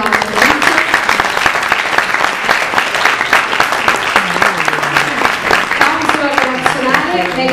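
An audience applauds a relational counselor being introduced at a presentation event in Pescara, with steady, dense clapping throughout, and a few voices speaking over it.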